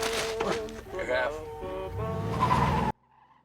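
Cars in a Breaking Bad scene skid with squealing tires and revving engines, loud and close, blended with voices from the scene and ending suddenly.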